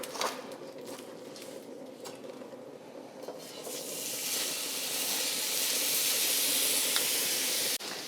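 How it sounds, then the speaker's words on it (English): Steak searing on a stovetop pan over very high heat, a steady broadband sizzle and hiss that swells louder partway through and holds close and continuous, with a few faint clinks early on. "we're gonna sear this on the stove on a really high heat"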